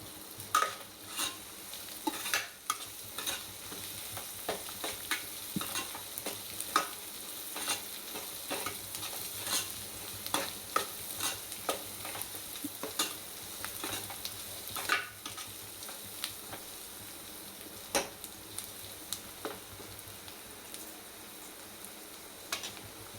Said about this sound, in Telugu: 2 స్పూన్లు కారం వేసుకొని వేపుకోవాలి. ఈ కారం కూడా పచ్చి వాసన పోయిందాక వేపాలి.